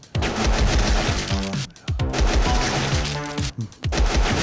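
Rapid, loud, repeated blasts of railgun fire from the video game Shoot That Pizza come in dense bursts, broken by two short pauses.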